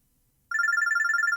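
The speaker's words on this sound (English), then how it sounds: "Yashio-kyun's Pokécom starts ringing." A Pokécom phone in the video game Robotics;Notes DaSH starts ringing abruptly after silence, a bright, rapid electronic trill that pulses steadily and stays clear and alone.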